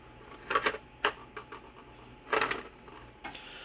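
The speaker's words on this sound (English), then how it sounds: "You can actually hear the frames all slide back" Frames slide back inside a 3D printed plastic miniature Slovenian Langstroth beehive model, giving quiet clusters of light clicks and rattles that come in short bursts over a soft background hum.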